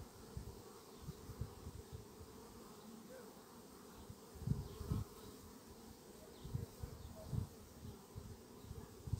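Honeybees drone softly around an open hive frame during a hive inspection. The buzzing is low and continuous, with a few louder swells as bees pass near.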